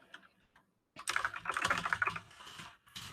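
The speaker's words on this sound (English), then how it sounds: "sorry for the typing here" Rapid keystrokes clatter on a computer keyboard close to the microphone: a few scattered taps, a brief pause, then a dense continuous burst of typing during an online teaching session.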